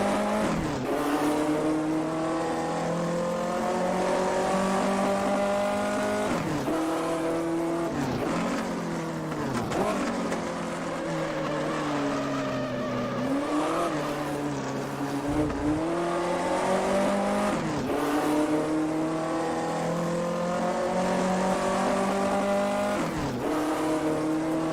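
A 1958 Formula 1 race car in the AMS racing game at Silverstone, its engine howling steadily at high revs with repeated sharp downshifts and pitch sweeps through corners, continuous and loud throughout.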